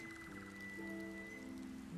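Rain falling in the video game Sky: Children of the Light, a soft steady patter under sustained musical tones, quiet and continuous with no talking.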